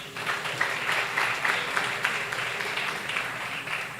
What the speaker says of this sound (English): they deserve a really, really huge round of applause